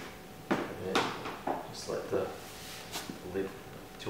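An ArkPak battery box lid latch is released and the lid lifted open, giving a series of sharp plastic clicks and knocks at close range, with brief handling thuds in between.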